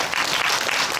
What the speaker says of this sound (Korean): 우리 이분들한테 감사하다고 박수 한번 보내주세요